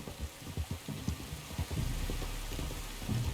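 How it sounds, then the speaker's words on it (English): Steady rain falls in the video game Red Dead Redemption 2, a fairly quiet continuous hiss with scattered pattering drops and soft low thumps underneath, with no voices. "You were right about the damn rain."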